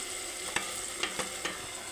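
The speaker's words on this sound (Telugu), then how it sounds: "ఇంక ఇప్పుడు ఈ తాలింపు దీంట్లో వేయాలి" Sizzling tempering stirred into a cooked broad bean curry: a continuous close frying hiss with four sharp spoon knocks against the pan, and no voices.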